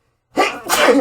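A single close, sharp sneeze bursts out after a moment of silence, with a breathy second half.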